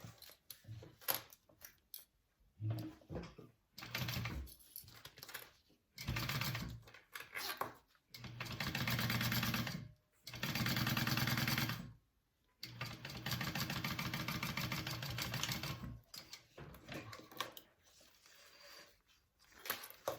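A sewing machine basting a bag panel down to a zipper, running in several bursts of fast rhythmic stitching separated by short pauses, close and clear with no talk.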